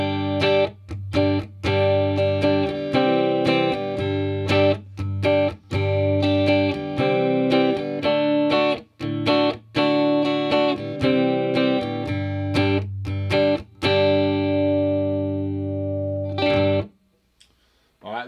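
Electric guitar played through a Peavey Bandit 112 Teal Stripe Edition combo amp with mids rolled back and highs boosted, loud sustained distorted chords with sharp rhythmic breaks, ringing out alone before a final pause.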